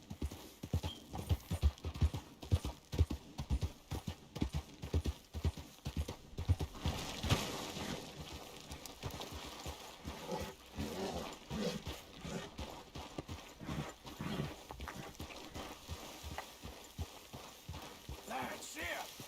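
Horse hooves clip-clopping at a steady walking rhythm in Red Dead Redemption 2, clear and close at first, then fading under game ambience and a brief whinny, with someone talking at times.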